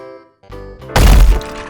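Falling rocks strike a cartoon bus in one heavy, booming crash of cracking and crunching impact, loud and close, after a brief musical lead-in.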